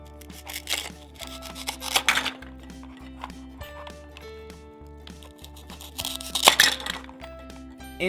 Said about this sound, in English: let's slice this orange in half.